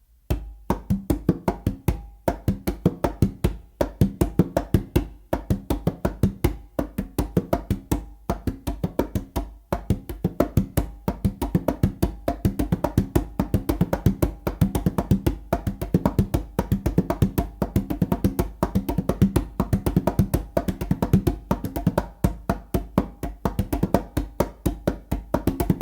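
Congas played with hands in a palm-tip independence exercise: a steady, rapid stream of close, crisp slaps and tones continuing without pause, with no talking.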